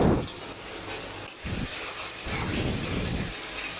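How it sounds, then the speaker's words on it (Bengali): Onion sizzling in oil in a wok (kadai) while being stirred, for a beef dish: a loud, continuous close hiss with a few bursts of stirring. "এখানে আমি একটা কড়াইতে তেল পেঁয়াজ দিয়ে একটু নেড়ে নিচ্ছি"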